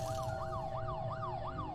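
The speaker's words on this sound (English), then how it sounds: "hear the sounds of sirens outside" Electronic video game siren wails outside in a repeating rising-and-falling sweep, several cycles in under two seconds, moderately loud over a low rumble.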